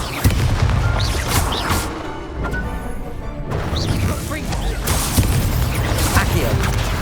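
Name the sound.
Stupefy spell cast in the video game Hogwarts Legacy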